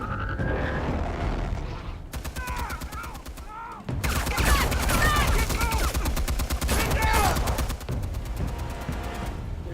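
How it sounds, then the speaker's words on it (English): Gunfire in Batman: A Telltale Series as officers come under attack, rapid bursts of shots in rattling volleys with short gaps, loud and close, mixed with heavy booms and some shouted voices. "They're shooting all the cops."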